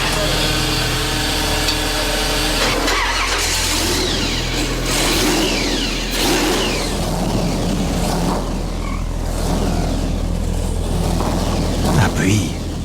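A Cadillac built for a quarter-mile run in a Monster Garage shop starts up and revs, a loud, steady engine roar with swelling pulses that runs throughout under shop noise.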